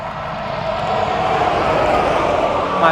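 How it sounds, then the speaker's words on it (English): Steady roar of highway traffic passing close by, a continuous broadband wash of tire and engine noise that holds loud and even throughout, with no other distinct sounds standing out. "my apologies for the noise on the highway."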